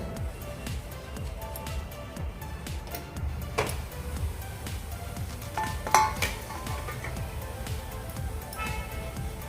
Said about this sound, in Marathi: आता आपण झाकण काढून घेऊया